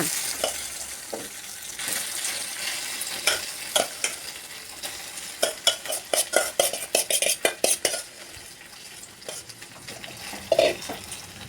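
Leftover rice and garlic stirred and fried in a pan: a steady low sizzle with clustered scraping and clinking of a metal spatula against the pan, busiest in the middle, with no talking.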